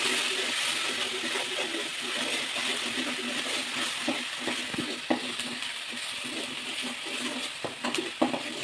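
Ginger garlic paste and whole spices sizzle steadily in hot oil in a pan for a Tamil egg curry, with a continuous close frying hiss and occasional scraping stirs and small knocks of a spoon.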